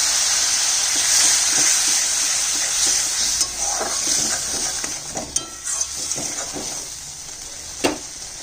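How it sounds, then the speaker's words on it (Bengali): Mustard-spiced fish masala sizzling and hissing loudly in a pan after water is added, a steady frying roar with occasional stirring clinks and scrapes, no talking. "জল দিয়ে দিচ্ছি।"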